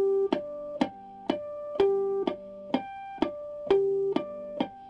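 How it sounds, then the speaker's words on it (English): Clean electric guitar harmonics ring out one after another, about ten bell-like plucked notes in a steady rhythm, each sustaining briefly before the next. "That's basically just playing harmonics very, very simply without any effects on."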